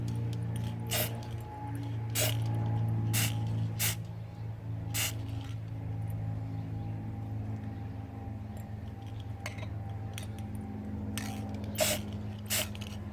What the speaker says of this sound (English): then I gotta spray more.